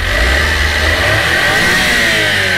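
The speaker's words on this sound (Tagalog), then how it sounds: "So try natin yung power ng ating makina." A Suzuki Every Wagon PZ Turbo minivan's 3-injector turbo engine revs hard and holds a steady, loud roar close by, with no voices over it.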